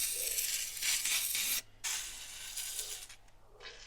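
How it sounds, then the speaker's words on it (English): Lubricant sprays from an aerosol can onto a car's brakes in several close, loud hissing bursts separated by short pauses. "I'll spray some down in here too, in case they stick"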